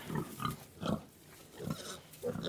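Several piglets grunt close by in short bursts, a quick irregular series of soft snorting grunts with brief pauses, no talking.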